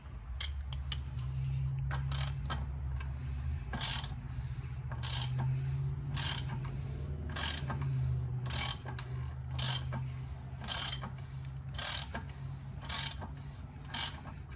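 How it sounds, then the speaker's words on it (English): Ratchet socket wrench snugging down the oil drain plug on a Jeep Wrangler JKU, with a series of sharp, evenly spaced clicking bursts close by over a low steady hum, and no talking. "then you can put the socket on it, tighten it down"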